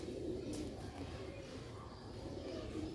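Soft, low cooing of a pigeon repeats gently against a quiet background.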